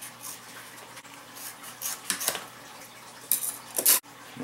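Scissors make a rough cut through a quarter-inch leather knife sheath, scattered crisp snips and rubbing scrapes, close and fairly quiet, with no talk.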